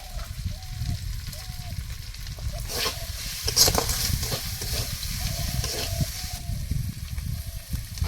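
Turmeric and spices frying in hot oil for a Bengali duck curry meal, a steady close sizzle with stirring scrapes and occasional faint talk in the background.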